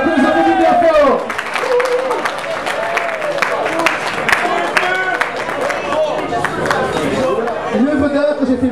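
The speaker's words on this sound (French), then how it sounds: "On peut les applaudir bien fort." An audience claps for Les Agaces, a finalist team at a local tournament. A voice speaks briefly at the start, then loud, scattered applause follows, mixed with crowd chatter, and carries on to the end.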